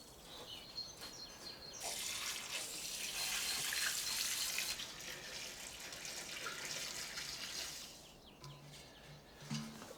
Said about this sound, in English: when you water citrus of any kind, soak, don't sprinkle